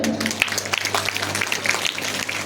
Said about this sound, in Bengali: আমরা তার নাম ঘোষণা করছি, খুব জোরে তালি হবে